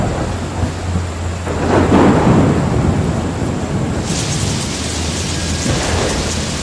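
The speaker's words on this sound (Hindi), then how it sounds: "फिर लगातार 15 दिनों तक बारिश होती रही।" Heavy rain and rolling thunder as a cartoon sound effect in an animated story: a loud, steady downpour with a deep thunder rumble swelling early on, continuing without any voices.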